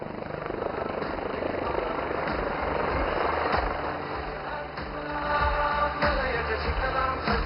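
A HAL LUH light utility helicopter flies a display at the Aero India air show in Yelahanka, its rotor and engine giving a steady, moderately loud whirring drone that swells slightly toward the end.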